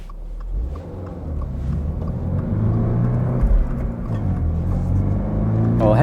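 A 2024 Subaru BRZ tS drives along, its engine droning steadily in the cabin with a low rumble and road noise that builds slightly as the car pulls ahead.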